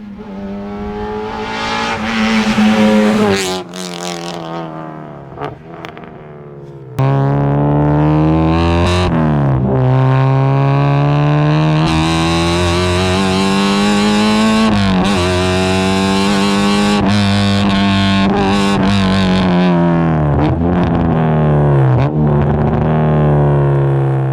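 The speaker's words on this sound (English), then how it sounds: "Sounds so raw, so raspy. Oh, you can't beat the note of a K-Series." Track-spec Honda with a swapped K-series engine revving loudly, its raw, raspy exhaust note climbing and dropping through repeated sharp rev bursts, close and sustained with no talking.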